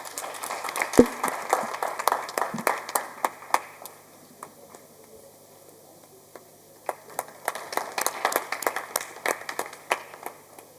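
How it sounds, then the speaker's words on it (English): Scattered clapping from a modest audience at a business conference session on OTT platforms, a loose burst of individual claps that fades to near silence midway, then picks up again in a second uneven round. "Big round of applause."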